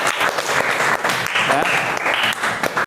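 Brief burst of clapping from students in a mathematics classroom, rhythmic hand claps close by, with some voices and chatter mixed in.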